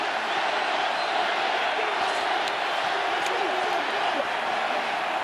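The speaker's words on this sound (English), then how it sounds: "The crowd counting down the seconds that would see their team into a second Vodacom URC final." A stadium crowd roars steadily at a Vodacom URC rugby semi-final between the Bulls and Leinster, a dense and continuous wall of cheering and chanting with no break.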